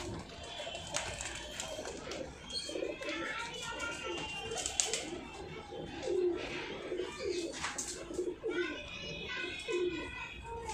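Female Rampuri and Nagpuri pigeons coo softly in a loft, throaty calls repeating close by, while people and children talk in the background.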